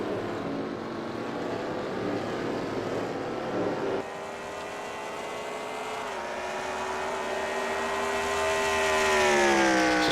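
Race car number 70 in a Gander Mountain Cup Series stock car race rounds a corner, its engine a loud, continuous drone whose pitch shifts and climbs as it powers through the turn.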